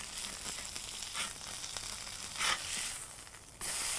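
A bacon cheeseburger patty sizzles steadily on a hot surface, with crackling spits and a few louder bursts, ending in a brighter surge of frying hiss.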